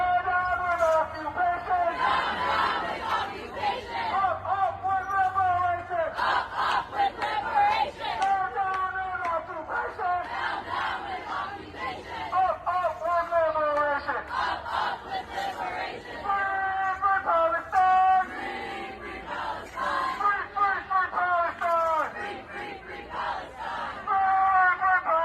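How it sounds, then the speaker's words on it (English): Students at Harvard cheer and shout as a crowd while the American flag is swapped for a Palestinian flag, a loud continuous mass of overlapping voices and yells that rises and falls throughout. "students cheer when the American flag is replaced with the Palestinian flag"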